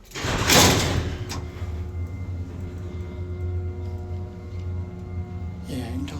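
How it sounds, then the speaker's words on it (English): A loud whooshing slide at the start as a gated elevator's sliding door opens, then a steady low hum of the Marshall traction elevator machinery with a faint clunk near the end. "you can tell that's like a door that can extend open"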